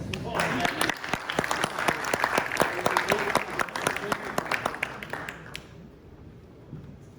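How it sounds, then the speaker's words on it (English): Conference audience applauding a speaker's introduction, dense clapping with sharp individual claps for about five seconds, then fading out to a quiet room. "give him a big round of applause to Gökhan Desai"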